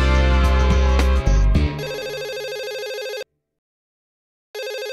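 A mobile phone rings loudly and electronically in repeated bursts, pausing briefly before ringing again, with no talk over it.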